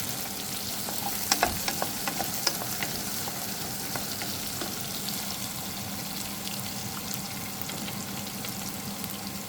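Snake gourd with onions and green chilli stirred and frying in a pan, a steady close sizzle with soft scraping clicks from the spoon throughout, no talking.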